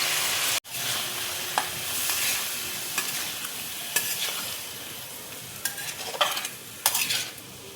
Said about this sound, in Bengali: অল্প করে দেখো জল দিয়ে দিচ্ছি।